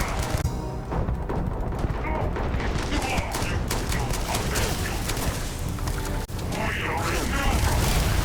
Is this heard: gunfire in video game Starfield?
yes